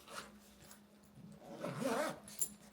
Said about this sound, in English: And on the back is another zipper, and that's where I keep my Kindle.